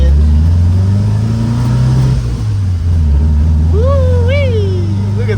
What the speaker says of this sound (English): Go guys, I'm driving. The Squareback seems to be running